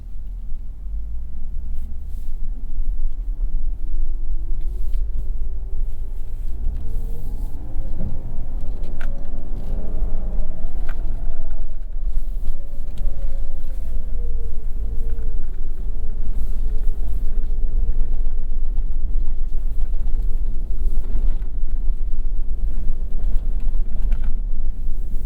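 A 2024 Lexus GX 550 Overtrail+ in 4-low crawls through Glamis desert sand with its wheels spinning, giving a steady, loud engine drone and low rumble that rises and falls as it churns along, with wind buffeting and no talk.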